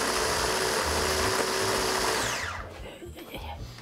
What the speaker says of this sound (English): He adds this to the basil and Renata pulses it again.